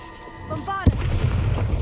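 Bombarda spell explosion in Hogwarts Legacy: a rising magical charge-up tone ends in a single sharp, loud boom, followed by a rumbling, crackling tail.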